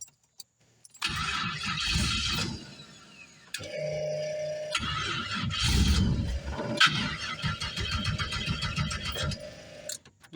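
A Foxbody Mustang, running on an undersized battery borrowed from a WRX, cranks in several loud, close starter bursts separated by short pauses. Each attempt churns rhythmically without catching.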